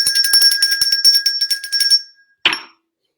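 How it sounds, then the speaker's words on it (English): A small hand bell rung rapidly and loudly for about two seconds with bright, metallic, rhythmic clangs, then one short final ring after a brief pause before it falls silent. "Wait, get the bell."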